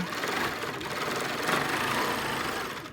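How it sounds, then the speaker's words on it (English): A sewing machine stitches steadily along a quilt border, its needle running in a fast, even whir at moderate volume with no pauses and no voices. "then I'm stitching down it again"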